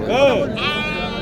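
Sheep bleat at an Egyptian livestock market in Kafr El Sheikh, a couple of close wavering calls over market chatter and people talking nearby.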